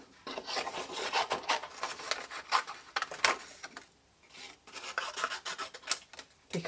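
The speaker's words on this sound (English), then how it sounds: "I'm going to trim them down to send them through my big shot" A Big Shot die-cutting machine is cranked to run paper through matching dies, giving close, rough rasping and grinding in uneven bursts, with a brief pause partway through. No voices are heard.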